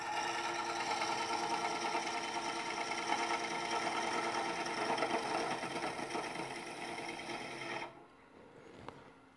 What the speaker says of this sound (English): go back to my bottom feeder here and try to take a little more out